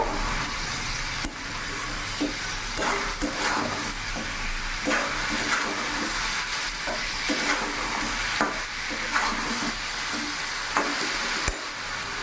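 Chicken masala with ginger, garlic and chilli paste sizzles in a hot pan while a spoon stirs and scrapes it, giving a steady loud frying hiss with repeated sharp scraping strokes up close.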